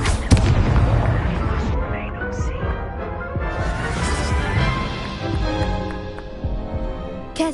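Incendio fire spell cast in Hogwarts Legacy, heard as dense, booming bursts and crackling impacts layered with game music and effects, loud and continuous throughout.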